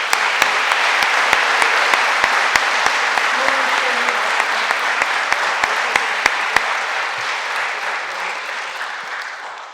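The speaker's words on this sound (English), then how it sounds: "Let's give him a round of applause." Audience applause at a college athletic hall of fame induction ceremony: steady, dense clapping filling a hall for nearly ten seconds, loud and sustained before slowly thinning toward the end.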